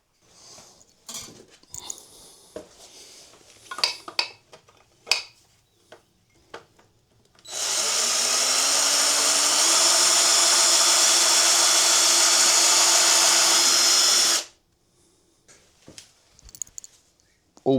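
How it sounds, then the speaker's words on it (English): Screws are tacked into wooden planks with a power drill, one sustained whirring run of about seven seconds that rises in pitch, with scattered knocks and handling clatter on either side. "All we're doing is just putting a few screws in just to tack it into shape"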